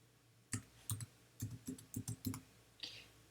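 Keys tapped on a computer keyboard while entering text in Tinkercad, about ten quick clicks in short irregular bursts, close and fairly quiet.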